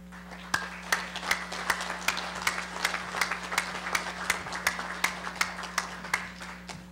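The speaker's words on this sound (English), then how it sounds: "Once again, let's give these Legion posts a big round of applause." Applause for winning Legion posts at a convention general session, a crowd clapping in a steady, evenly paced rhythm, moderately loud and sustained throughout over a faint hum.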